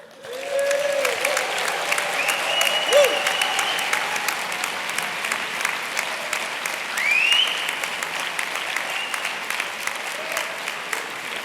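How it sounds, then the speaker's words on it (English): Audience at the NAHT annual conference applauding and cheering, a long, loud, continuous round of clapping with occasional whoops and whistles rising above it. "Don't just give yourselves a round of applause, make a lot of noise and celebrate your successes of last year."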